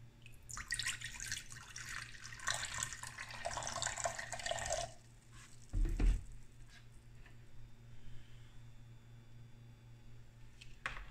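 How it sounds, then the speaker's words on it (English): Tap water runs for about five seconds filling a container, a bright rushing stream that stops, followed by a thud, faint drips and quiet handling noise. "And fill the rest up with water."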